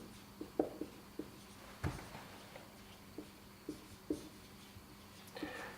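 Pen or chalk strokes writing a formula by hand, a series of short scratchy taps spaced out over several seconds, close and fairly quiet with no talking.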